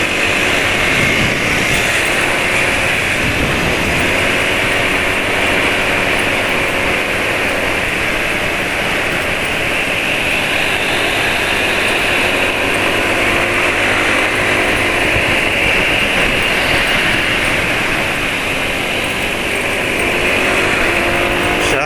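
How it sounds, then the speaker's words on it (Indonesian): A Honda PCX 160 scooter engine runs continuously for over twenty seconds, a loud, close, steady hum with a high-pitched whine and no speech over it. "penulis nggak merasakan suara mesin kasar ya."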